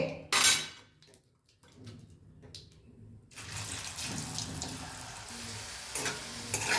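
Pans and utensils clink briefly, then after a short quiet spell a steady sizzle of potato yam pieces frying in a pan rises and carries on to the end.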